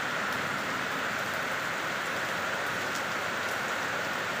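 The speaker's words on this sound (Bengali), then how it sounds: "অনেক সুন্দর বৃষ্টি হচ্ছে" Steady rain falls in Bangladesh, a dense, even hiss of drops on surfaces that holds at the same level throughout with no pauses and no voices.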